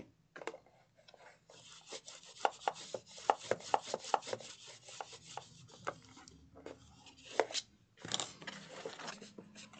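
A ruler rubs a sticker down onto paper in a run of quick, close, dry scraping strokes. The strokes come in uneven bursts, with a short pause before a final flurry.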